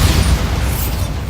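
A Bombarda explosion spell cast in a Harry Potter video game, one loud, deep booming burst whose rumble rolls on steadily for over a second before thinning out, with no voices over it.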